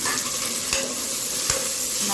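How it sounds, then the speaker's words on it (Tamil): Ivy gourd, onion and tomato sauté in hot oil with a steady close sizzle, while a spoon scrapes and stirs the pan in two distinct knocks; no one speaks. "நல்லா எண்ணெயிலே வதக்கட்டும்."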